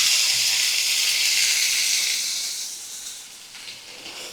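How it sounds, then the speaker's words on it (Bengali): Boiled peas sizzle in a pan over a low flame, a steady bright hiss that slowly eases and softens toward the end, with no one talking. "সিদ্ধ করা মটর দিয়ে দিলাম।"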